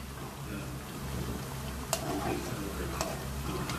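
Potato and onion pakoras fry in hot oil with a continuous close hiss over a low hum, with a couple of sharp clicks from utensils.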